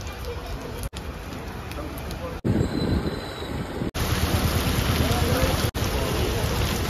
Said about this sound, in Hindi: बारिश हो रहा है यार, कैसे कर जाएंगे।